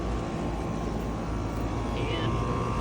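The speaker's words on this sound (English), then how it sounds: "here's a startup of my living room air conditioner. It's got a newer Copeland scroll compressor." A 2013 five-ton living room air conditioner with a newer Copeland scroll compressor starts up, giving a steady, loud broadband roar with a constant hum throughout and a brief higher whine near the end.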